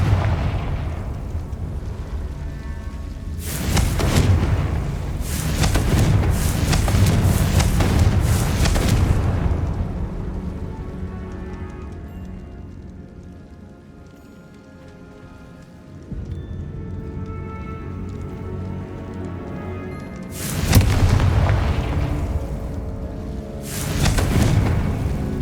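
Confringo fire spell blasts in Hogwarts Legacy, loud roaring bursts of crackling explosive noise that come in long dense waves, fade into a quieter stretch, then flare up again.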